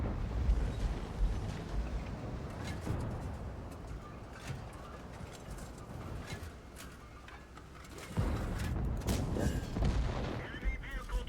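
A T55A tank in World of Tanks fires and destroys an enemy vehicle: several sharp, booming gun blasts and crunching impacts, loudest near the end, over a rumbling battlefield background.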